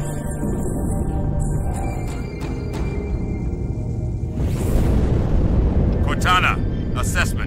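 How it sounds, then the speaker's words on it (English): An explosion inside the ship Athens in Halo 2: a low, sustained rumbling roar that swells partway through, with game sound effects and bright bursts layered over it, loud and heavy. "That explosion came from inside the Athens, same as the Malta."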